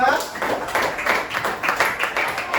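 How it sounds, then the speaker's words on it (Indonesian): An audience applauds for a student group in a classroom presentation, a dense burst of clapping that continues steadily throughout, close and loud. "tepuk tangan buat kelompok 2"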